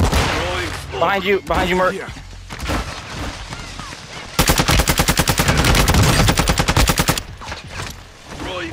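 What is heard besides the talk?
gunfire in a video game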